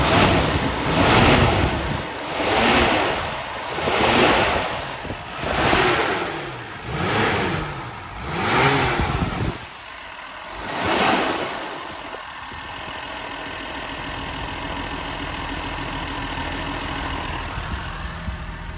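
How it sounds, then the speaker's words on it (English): A Mercedes 280SE with the M130 engine, running on a replacement electric fuel pump after a hot-stalling fault, is blipped through about six loud rising-and-falling revs. It then settles into a steady, even idle. "Let me rev it up."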